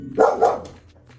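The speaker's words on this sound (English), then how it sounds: "you can hear my dog barking in the background" A single deep dog bark, a short double-pulsed woof, close and fairly loud, then fading into quiet room noise.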